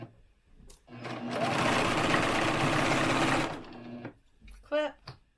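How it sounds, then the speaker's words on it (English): A sewing machine stitching a reusable fabric face mask runs in one steady, loud, close burst of about three seconds, followed by brief handling clicks and a short rattling sound. "Take it back to your sewing machine or your serger."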